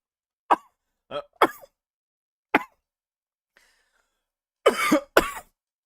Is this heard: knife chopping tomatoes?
no